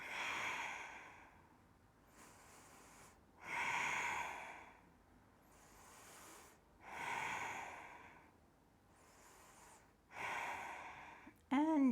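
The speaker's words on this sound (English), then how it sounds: "And breathing." Slow, audible breaths during a yoga bridge pose, about six long inhale-exhale cycles in steady rhythm, close and moderately loud with soft breathy noise and no talking.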